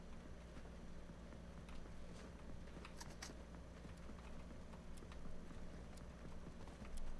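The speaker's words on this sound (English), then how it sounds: "I hear footsteps with half shield." Rhythmic footsteps of an enemy player in Fortnite, a steady clip-clop patter running under the low hum of game sound, moderately quiet and fairly close.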